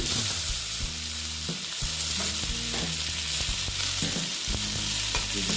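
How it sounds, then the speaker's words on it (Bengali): Tomatoes fry with onions in a pan, a loud, close, steady sizzle broken by rhythmic scraping stirs throughout, with no voices. "দিয়ে আবার আমি ভেজে নিচ্ছি"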